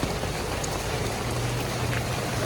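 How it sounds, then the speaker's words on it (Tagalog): Rain falling outdoors, a dense, steady hiss with no gaps, close and fairly loud with no voices over it. "Basang-basa na po kami ng ulan."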